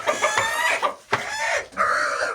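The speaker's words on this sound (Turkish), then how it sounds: "Şurada da grup tavuğumuz var." Several chickens cluck loudly and close by, a busy overlapping chorus of short squawks and clucks with brief pauses.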